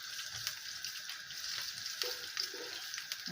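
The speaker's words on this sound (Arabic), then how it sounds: "هشوحها كده مع حبه الزيت" Something sautéing in a little oil in a frying pan previously used for frying artichokes and potatoes, a steady soft sizzle with faint stirring scrapes throughout.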